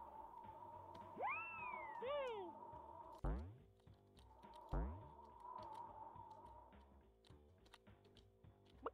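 A cat in a platform speedrun game gives a couple of rising, sliding meows, followed by swooping jump sounds and soft keyboard tapping under a steady game tone.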